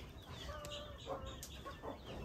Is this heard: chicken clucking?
yes